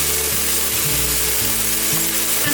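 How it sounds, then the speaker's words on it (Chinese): Soy protein meat being stir-fried with shiitake mushrooms for a vegan lettuce dish, a steady close sizzle with a low-pitched scraping of the spatula and a harmonic hum running through it. "大豆素肉差不多炒了有点干干的时候"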